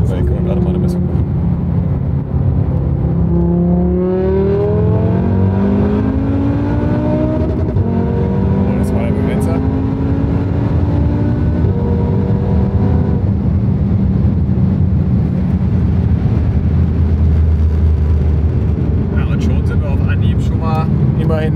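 A modified VW Golf 7 R with a five-cylinder engine pulls away at full throttle, its loud revs rising steadily and then rising again after a shift, heard from inside the car with a voice talking over the engine noise.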